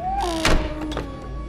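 A door closing in the video game P.T., a single dull thunk at moderate distance over a low steady drone, followed by a couple of softer knocks.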